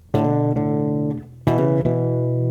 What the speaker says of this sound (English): We're going to look at some cool little hammer-on ideas that sound like this.